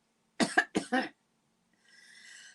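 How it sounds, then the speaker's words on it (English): Two sharp coughs close together, near and distinct, followed by a faint hiss of background noise. "Sorry for coughing."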